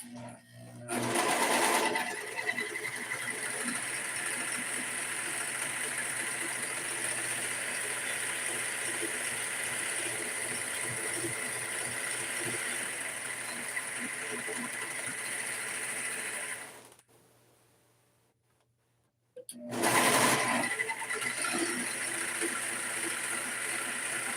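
A sewing machine runs loud and steady at close range for about sixteen seconds while stitching a DIY jogger, stops briefly, then starts again.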